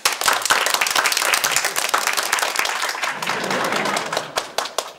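An audience applauds at an evening concert as the night's soloist is invited onstage: dense, loud, close clapping that continues steadily throughout, thinning slightly toward the end.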